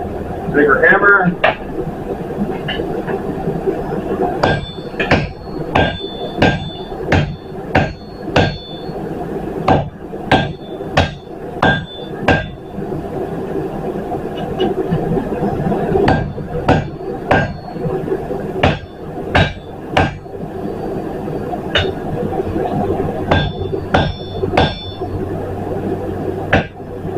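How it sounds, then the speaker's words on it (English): Heavy hammer blows ring out steadily on hot metal at a forge, dozens of sharp clanging strikes in an uneven rhythm, close and loud throughout. "Bigger hammer."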